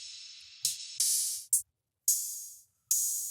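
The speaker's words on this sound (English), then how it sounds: "first things first is obviously going to be an open hat on the first hit." Open hi-hat drum samples in a beat, short bright hissy hits repeating in a loose pattern, each cut off abruptly, alone with no other instruments.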